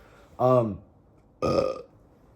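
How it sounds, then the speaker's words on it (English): Two quiet burps in close succession, a short deep one followed by a second, rougher burp about a second later, with silence around them. "Mandatory burp, so this doesn't seem so serious."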